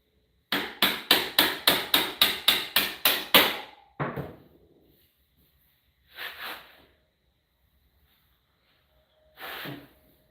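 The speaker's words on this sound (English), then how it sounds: "This is a little more hammer than I need to use." Hammer blows struck in a fast, even series of about ten sharp metallic hits during a Suzuki DRZ dirt bike oil change, followed by one heavier strike and two isolated later knocks, close and loud with no talk.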